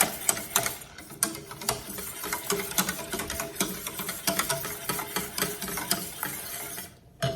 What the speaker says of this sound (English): I'm gonna mix this well, and then I'm gonna put the heat on. I just want to make sure that all the cornstarch is dissolved.